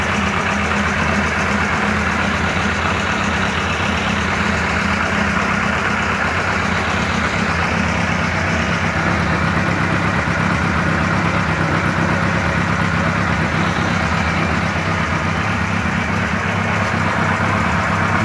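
A BMW R1000 police motorcycle engine idling while running slightly rich, a steady, even low rumble with a continuous mechanical clatter that holds close and unchanged throughout, with no talking.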